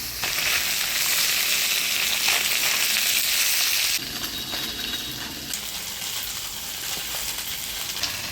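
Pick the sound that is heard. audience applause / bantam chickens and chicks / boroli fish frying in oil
boroli fish frying in oil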